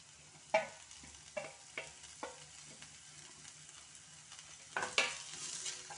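Onions fry with garlic and ginger in a pan, giving a faint, soft sizzle broken by several sharp scrapes and clinks of stirring.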